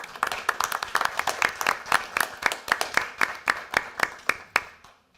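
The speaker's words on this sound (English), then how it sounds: "And that deserves an applause too." Sparse applause at a town council meeting, a handful of people clapping in distinct, uneven claps that thin out and stop.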